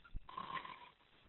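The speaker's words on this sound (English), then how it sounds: "He's snoring." A man snores once on the floor indoors, a single rough, rasping inhalation heard faintly over a muffled phone-line hiss.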